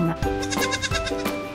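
A lamb bleats in a few wavering, nasal cries, close and fairly loud, with short gaps between them.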